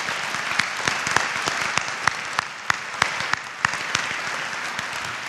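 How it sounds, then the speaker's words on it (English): Sustained crowd applause at a high school Veterans Day ceremony, many hands clapping together with sharp individual claps popping out above the mass, moderately loud and continuous. "Let's give Captain Mommsen one more round of applause."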